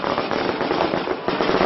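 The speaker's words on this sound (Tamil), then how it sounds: "மாலை வெடிக்கலாம் விடுங்க" A string of firecrackers bursts in rapid, dense crackling at a Hindu temple consecration ceremony, loud and continuous with uneven pops, while voices are faintly present beneath.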